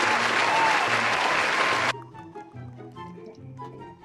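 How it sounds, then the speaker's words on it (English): A loud burst of crowd applause and cheering in a Roblox Flood Escape game plays for about two seconds, then cuts off abruptly, leaving quieter tonal sounds. "People are cheering for you right now."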